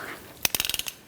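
A wrench ratchets on the oil filter of a 2011-2019 Ford Explorer during an oil change, a quick run of about eight sharp, evenly spaced clicks, close and alone.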